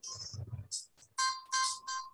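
A phone rings in the background during an online hangout, giving short repeated electronic tone bursts with gaps between them, moderately loud over faint room noise.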